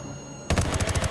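Rapid automatic gunfire from Ghost Recon Wildlands erupts after a half-second of quiet, a loud, close burst of evenly spaced shots with no talking.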